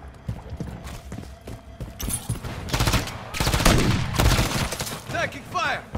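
Rapid bursts of video game gunfire from a sentry gun rattle loudly and continuously, mixed with other game effects and sporadic loud hits over a busy, noisy background.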